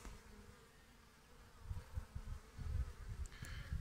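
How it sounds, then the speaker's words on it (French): A steady buzzing of honeybees flying out of a hive close by in February, low droning wingbeats rising and falling in waves with no voices. "Là, les abeilles elles sortent super bien."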